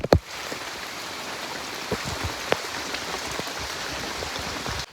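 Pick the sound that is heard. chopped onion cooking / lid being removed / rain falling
rain falling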